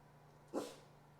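A single dog gives one short, soft bark or huff on command in an indoor room, heard alone and faint.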